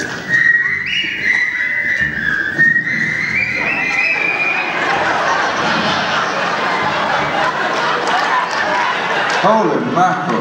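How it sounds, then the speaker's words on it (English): A concert crowd in Nashville lets out a long, loud shrill whistle with cheering and babble, sustained over several seconds, the roar of the audience filling the room. "Nashville can whistle too."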